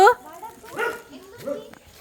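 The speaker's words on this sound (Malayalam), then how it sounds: "എന്തിനാ കുരയ്ക്കുന്നേ" A dog gives a few short, high yips and barks, close by, with soft whimpering between them.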